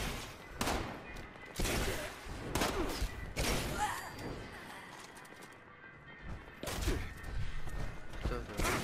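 Gunfire in the video game Fallout 76, several sharp bursts of shots in irregular clusters, loud and close, with heavy thuds between them.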